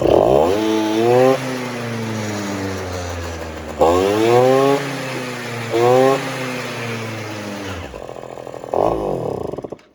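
A power drill whirs loudly in several bursts during work on a Yamaha Jog scooter, its motor winding up in pitch and holding, with short pauses between runs.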